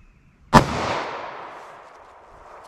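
A single sharp gunshot from a 2-inch barrel firing 9mm Federal Punch into ballistics gelatin, a loud close crack after brief quiet, followed by a long fading echo tail.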